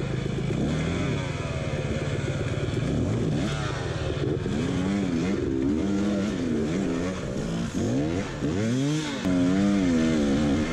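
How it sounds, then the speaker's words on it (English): A dirt bike engine revs hard and stays near and loud, with the rear tire spinning in mud while the rider tries to climb a ledge on a muddy trail race qualifier. "I tried to gas it to get over this ledge, but my back tire just spun in the mud"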